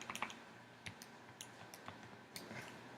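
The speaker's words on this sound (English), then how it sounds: "So we're going to type in this negative 290 divided by 180." Numbers being keyed into a calculator: soft, quick clicky button presses in irregular bursts, quiet and close, with no voices.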